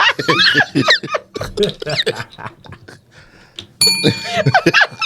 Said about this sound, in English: There go the bell.